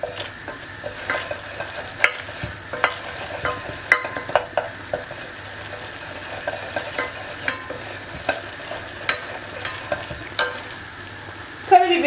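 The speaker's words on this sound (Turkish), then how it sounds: "ve bir buçuk yemek kaşığı unumuzu ilave ettim. Ben bunu karıştıracağım." Flour stirred into a hot pan as the base of a homemade lasagna sauce: a soft, steady sizzle with close, irregular spoon scrapes and clicks against the pan.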